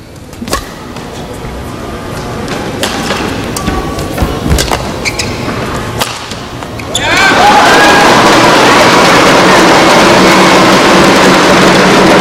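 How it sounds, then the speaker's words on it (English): Crowd at a badminton match in the 2012 Axiata Cup erupts into a loud, sustained cheer after about seven seconds, following quieter arena ambience with scattered shuttle hits and voices. "Brings the crowd to its feet."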